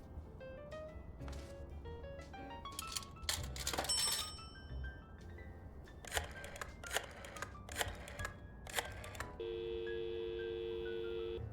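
Telephone keypad dialed in the Blacksad: Under the Skin video game: a run of separate beeping tones and clicks, then a steady ringing tone toward the end, heard fairly close against faint background music.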